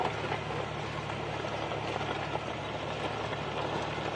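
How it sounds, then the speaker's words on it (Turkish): A New Holland T4.60S four-wheel-drive tractor with a common rail diesel engine runs steadily while ploughing a field, a constant mid-level drone with a low hum and no voices. "Sesi de çok değişik diğer common rail olmayan motorlara göre farklı bir motor sesi var"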